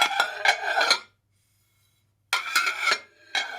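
Ceramic plates and dishes clatter and scrape against each other in two bursts separated by a silent gap, with a short final rattle.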